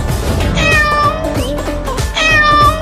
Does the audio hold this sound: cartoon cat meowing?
yes